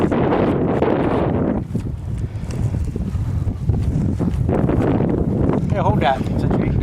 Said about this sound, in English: We can probably blame that on the wind today, since it's so windy.